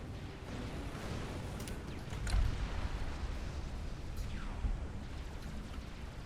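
Battleship gunfire and explosions in the strategy game Forged Alliance Forever, heard as a steady low rumbling din with a couple of heavier booms mid-clip, continuous and fairly dense throughout.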